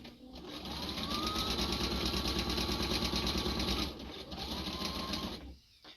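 A sewing machine stitches through wool, whirring steadily and loudly in one long run, then a short pause and a second shorter burst before stopping.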